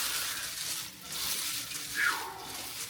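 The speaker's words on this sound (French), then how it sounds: "Ce soir, ces petits hamburgers. La cuisson." Small hamburgers fry in a pan at a camper-van cooking spot, giving a soft, steady sizzle at low volume that continues for the whole stretch.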